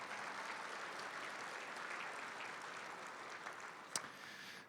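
An audience at a county education event applauds, a distant, even hiss of many hands clapping with one brief louder knock near the end.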